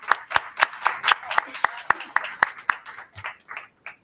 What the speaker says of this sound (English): let's give a round of applause to our board members and their hard work